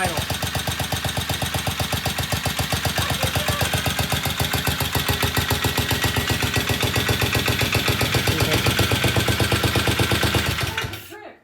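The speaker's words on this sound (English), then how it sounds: "Wow, listen to that idle." A vintage British motorcycle engine idles steadily with a fast, even, loud pulsing beat that holds for about eleven seconds before cutting off abruptly.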